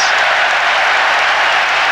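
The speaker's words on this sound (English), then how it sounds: "Now the crowd roaring." A rugby crowd roars at an England try in a World Cup match against Tonga, a loud, steady wash of cheering and applause that fills the whole stretch.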